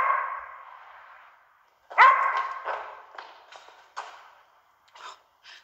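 A dog whines with a long drawn tone, then breaks into a string of short, sharp barks at close range, the bursts spaced irregularly with brief quiet gaps between them.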